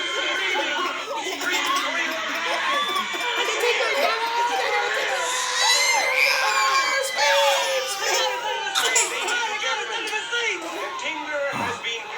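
A movie-theater audience from the 1959 horror film The Tingler screams and shrieks continuously, layered with chatter and nervous laughter, a dense crowd din throughout.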